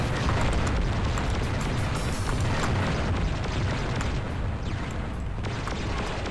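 Mega missile detonating on the generator in Descent, a dense, loud rumbling roar of explosions sustained throughout, with sharp bursts layered on the din and no talk.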